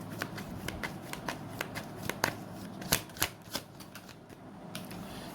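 A deck of tarot cards is shuffled by hand, giving a steady run of soft, close riffling flicks with a few sharper snaps partway through and no voice over it.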